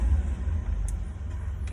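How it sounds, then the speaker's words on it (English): A garbage truck engine idles close by, giving a steady, heavy low rumble that holds throughout with no voices. "There's a dumpster truck right here"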